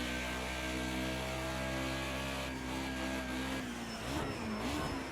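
A BMW M3 Sport EVO Group A race car in Project CARS 2 at Bathurst accelerates hard, its engine note a loud, steady harmonic drone that holds constant before wavering as revs shift near the end, with no voices.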